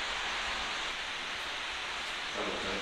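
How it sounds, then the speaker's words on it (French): Waterfall inside an abandoned villa, a dense continuous rushing hiss of falling water, steady and enveloping with no pauses or voices. "il y a une cascade en fait"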